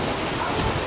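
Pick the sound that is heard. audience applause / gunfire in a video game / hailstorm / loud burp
hailstorm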